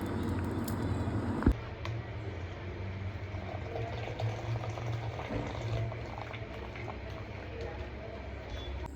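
Cooked rice for chicken biryani being lifted out of its hot cooking water, with a soft bubbling, sloshing wash of liquid and a brief clank near the start, fairly faint and steady.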